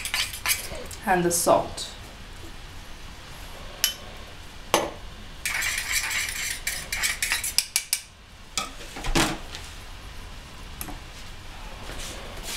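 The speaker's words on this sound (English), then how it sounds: "I'm gonna mix the cornstarch with the water in this little thing right here." A spoon clinks and scrapes against a small dish in scattered bursts, mixing cornstarch with water, with brief speech near the start.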